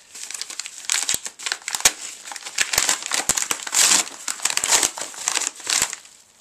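A PSP bundle envelope is handled and opened close up, with continuous crinkling and crumpling of paper or plastic and sharp rustles and tears throughout. No one speaks.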